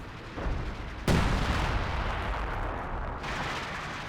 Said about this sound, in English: So this time he's going for a base barrage.